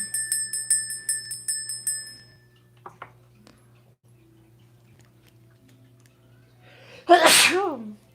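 A single loud, sharp human sneeze bursts out near the end, following a quiet stretch of light ticking and bell-like chimes in a room.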